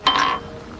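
Glasses clink once in a sharp, bright chime during a toast at a family gathering, then ring briefly and fade.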